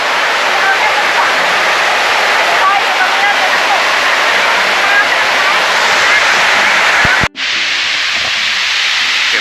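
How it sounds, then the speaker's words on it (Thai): Haew Suwat waterfall in Khao Yai roars as a loud, steady broadband rush of falling water, continuous and close, with a brief dropout near the end. "ดูชมความงามของน้ำตกเขียวสุวัดไปพร้อมๆกันครับ"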